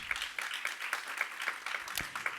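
Congregation clapping along during a Spanish-language church sermon, a steady rhythmic patter of many hands at a brisk, even beat, moderately loud and continuous.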